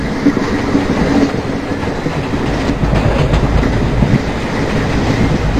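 A WDP4B diesel-hauled Indian express train crossing a bridge in the Open Rails simulator, with a steady loud rumble and rhythmic clickety-clack of wheels over rail joints throughout, no voices.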